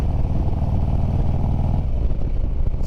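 A 2018 Harley-Davidson Road Glide Ultra's engine runs steadily close by while riding, shifting through the gears with a constant low rumble and a slight change partway through.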